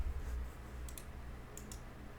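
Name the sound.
typing on a computer keyboard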